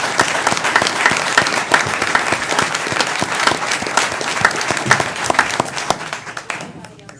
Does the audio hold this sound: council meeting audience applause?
yes